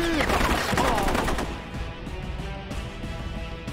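Gunfire in the shooter video game Rogue Warrior: rapid, loud bursts of shots cracking close together, heaviest in the first couple of seconds and then thinning to sparser shots.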